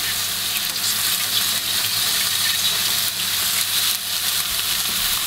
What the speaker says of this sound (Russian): Теперь обильно добавляю оливкового масла